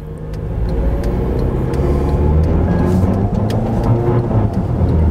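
An Acura RDX engine with over 150,000 miles idles and runs steadily at close range, its low rumble slightly uneven and skipping throughout, with no voices.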